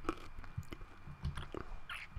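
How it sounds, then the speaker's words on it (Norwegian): Someone crunches and chews a throat candy close to the mic, giving irregular crisp bites and soft squishy chewing spread across a couple of seconds. "Sorry hvis du hørte knasingen der, men jeg har vondt i halsen enda, så jeg må ha noe å tygge på."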